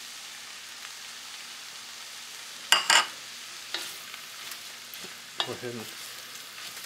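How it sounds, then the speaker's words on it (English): Chili powder and cumin get stirred into a pot of smoked brisket chili, a soft low sizzle under a few scraping spoon strokes and thicker wet stirring sounds, close but quiet, with a brief spoken phrase. "stir that up really good and mix that to get those flavors to bloom"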